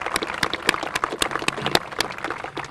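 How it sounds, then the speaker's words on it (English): A small outdoor crowd at the opening of a river nature reserve gives a round of applause for Robbie and the students, scattered, uneven claps, fairly light and moderately distant. "and the students a round of applause"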